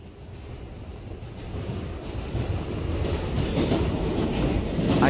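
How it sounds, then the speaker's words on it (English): A train rumbles along in the Roblox game Trains vs Cars, a steady rolling drone that grows gradually louder over several seconds with no talking. "It's time to drive this train."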